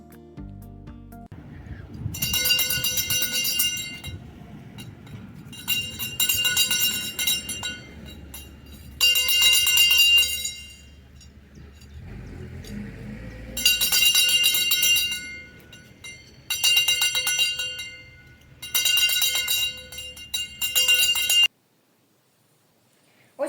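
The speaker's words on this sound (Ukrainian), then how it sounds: "пролунала у новому навчальному році чарівна мелодія шкільного дзвонка" A school bell rings out in six long bursts with short silent gaps, marking the first bell of the new school year at a small rural school branch, with a low murmur of a crowd beneath.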